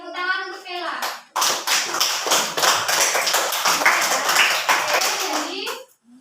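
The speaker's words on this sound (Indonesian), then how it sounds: "ya tepuk tangan untuk Bella." A primary school class bursts into a round of hand clapping in applause for a classmate, loud and close, dense and steady for about four seconds, just after a teacher's spoken line.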